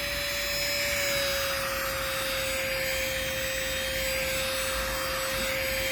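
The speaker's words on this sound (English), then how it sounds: "I'm going to use it to demonstrate how good this vacuum cleaner is" A handheld car detailing vacuum cleaner runs continuously on an old couch, sucking up pet fur with a steady high-pitched motor whine and a loud, even rushing of air, with no talk.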